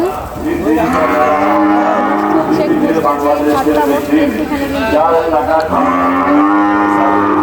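Large cattle at a busy cattle market low loudly and close by, long drawn-out moos following one after another with barely a pause, over a background of crowd chatter.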